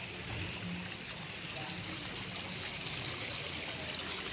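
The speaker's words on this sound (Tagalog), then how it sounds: "Galing yan sa bukal ang tubig." Spring water flows steadily into a swimming pool at a Laguna resort, a soft continuous rushing trickle with no breaks and no talk over it.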